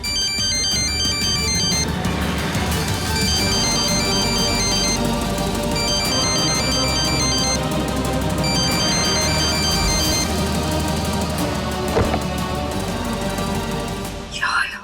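A mobile phone ringtone plays loudly and continuously as a repeating electronic melody, ringing unanswered for nearly fifteen seconds before cutting off abruptly.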